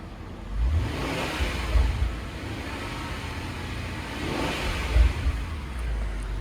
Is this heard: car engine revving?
yes